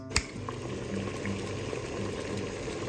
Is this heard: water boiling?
yes